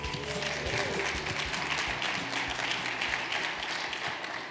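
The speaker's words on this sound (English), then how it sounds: "Let's give everybody a big round of applause." An audience at the 2019 IgniteX Cleantech Accelerator Demo Day in Kansas City applauds. The steady, dense clapping of many hands runs throughout without a break.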